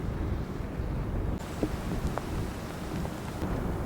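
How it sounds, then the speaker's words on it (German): Wind and rain of an approaching storm at Vinjesjøen in Norway, a steady faint wash of rainfall and gusting wind noise with a few soft thumps, no voices. "Als der Wind gegen Mittag immer mehr zulegte und es auch zu regnen begann"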